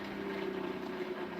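A pulse motor spins steadily at about 3,078 RPM, giving a constant, even hum with a tonal whine throughout, alone and without talk.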